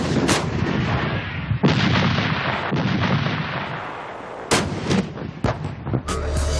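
A British AS-90 Braveheart self-propelled artillery gun fires, loud booming blasts with rolling echoes, several shots in quick succession.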